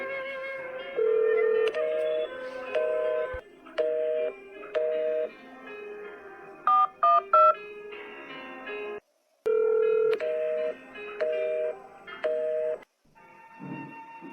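A phone keypad beeps through a series of dialing tones in short rhythmic bursts, pausing and resuming, ending with a soft rustle.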